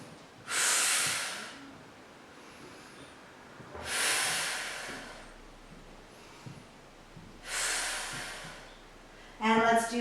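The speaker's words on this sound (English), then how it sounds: "making sure you're getting a huge exhale as you pull that leg up" Three forceful, breathy exhales at steady intervals during a Pilates leg-pull exercise, each a loud hissing rush of air close to the mic, ending with a short rough snort-like breath.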